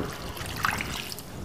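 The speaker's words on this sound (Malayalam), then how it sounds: "ഈ വാട്ടുകപ്പ ഞാൻ ഈ പ്രഷർ കുക്കറിലേക്കിട്ട് കുറച്ച് അത്യാവശ്യം സാമാന്യം നല്ലപോലെ വെള്ളം ഒഴിക്കാം." Water pours into a pressure cooker holding dried tapioca, giving a steady close trickling, splashing flow with a few brighter splashes midway and no talk.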